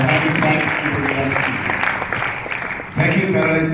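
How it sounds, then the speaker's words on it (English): Applause for panel participants at a Million Dollar Round Table forum, a steady wash of many hands clapping that fills the room for several seconds, dipping briefly before swelling again. "maybe we just give a round of applause to all the participants"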